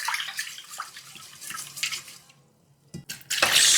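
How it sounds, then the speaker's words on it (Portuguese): Short-grain Japanese rice being rinsed in water in a home kitchen, with sloshing and running water splashing in a bowl, a brief quiet pause, then louder pouring water rushing in near the microphone. "Vamos lavar e vamos repetir essa lavagem por 3 vezes"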